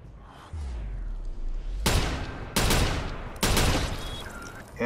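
Sniper rifle gunfire from the video game Watch Dogs: three loud, sharp shots spaced about a second apart, each followed by a ringing, decaying tail over a low background rumble.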